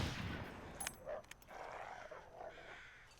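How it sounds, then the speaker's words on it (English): A gunshot fired at a wolf in the survival video game The Long Dark, a faint sharp crack with a brief rattle after it, followed by a soft windy outdoor ambience. "This will basically be our first shot of the game."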